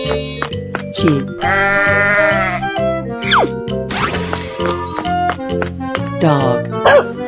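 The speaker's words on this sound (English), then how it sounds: "Sheep." Cartoonish sheep bleats in a 3D animal slide game, a wavering bleat rising over steady, looping game music with chimes and bouncy effects; a voice calls out animals alongside.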